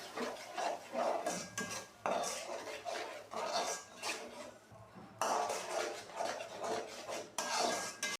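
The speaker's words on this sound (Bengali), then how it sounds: "এখন আমি এগুলো সব ভালোভাবে কষিয়ে নেব।" Turmeric, ginger and chili powder with a splash of water are stirred in a pan, producing near, quiet scraping and rubbing strokes in repeated bursts with brief breaks.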